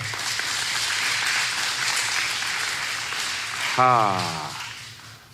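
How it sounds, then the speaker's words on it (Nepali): A church congregation breaks into dense, sustained applause that fades toward the end, with a voice briefly rising over the clapping. "महिमाको ताली बजाइदिउँ न प्रभुलाई ल"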